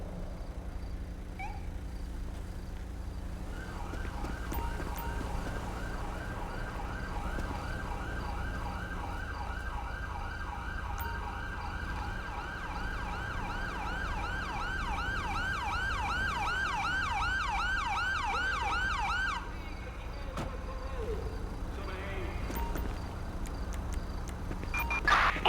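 Ambulance siren in the video game GTA V (LSPDFR mod), a steady wavering wail that runs for about fifteen seconds over a low engine rumble, then cuts off abruptly.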